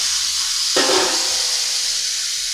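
Steam hissing from a pressure cooker on a gas stove, a steady broad hiss that swells suddenly partway through and stays loud and close to the end.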